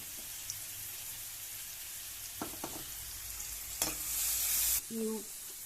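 Onions frying with minapa vadiyalu (urad dal fritters) in a pan give a low, steady sizzle with a few sharp stir clicks, then a brief loud hissing burst toward the end.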